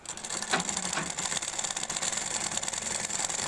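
A sewing machine stitching the edge of a blouse piece runs steadily and close, a dense continuous mechanical whir with a brief louder burst near the start and no talking.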